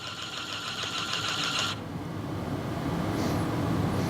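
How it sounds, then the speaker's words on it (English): An electric pump inside a Fluke 729 pressure calibrator pressurizing a line gives a steady, close buzzing hum for under two seconds, then cuts off abruptly, leaving quiet room noise. "Calibrator will start pressuring up. You can hear the electric pump working."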